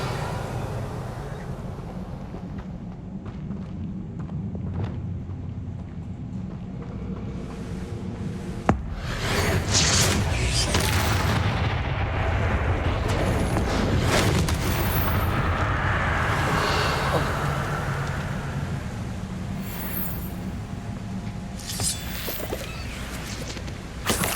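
Bombarda blasting spell from the Hogwarts Legacy video game, with a loud booming burst near the nine-second mark followed by a sustained rumbling, crackling wash of debris and effects over steady game background.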